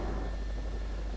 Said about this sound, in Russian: Это я другой вертолет